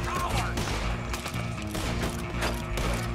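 Rapid gunfire in a Red Dead Redemption 2 shootout, with dense overlapping shots and crashes over a game music bed, loud and continuous throughout.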